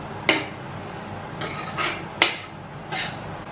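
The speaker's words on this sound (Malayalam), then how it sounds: "ഇളക്കി കൊടുക്കുക." Soya chunks and masala stirred in a cooking pot, a few sharp utensil clinks against the pot and softer scraping strokes spaced out over several seconds, close and fairly quiet.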